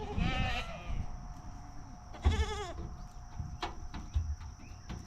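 A herd of goats bleats in several overlapping calls, one strong burst standing out midway, with quieter bleats scattered around it and a faint steady insect whine underneath.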